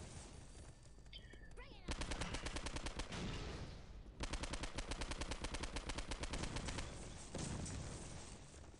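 Enemy gunfire in the Postal 2 video game, with rapid bursts of loud automatic shots crackling in fast, dense volleys over several seconds, pausing briefly before resuming.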